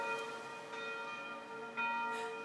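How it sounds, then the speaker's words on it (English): Church bells ringing in Amalfi, sustained tonal peals with fresh strikes every second or so, heard at a moderate distance and fairly faint. "Church bells."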